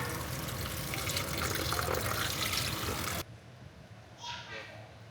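Running water splashes loudly for a few seconds as shallots and ginger are washed, then cuts off, leaving a quieter room with a brief rustle and a faint voice.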